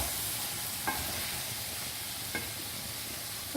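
Spoon stirring potatoes and crushed boiled eggs in a pan, a soft steady sizzle from frying throughout, with two faint scraping strokes against the pan.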